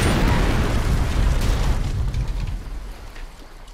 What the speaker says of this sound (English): I'll just explode it from a distance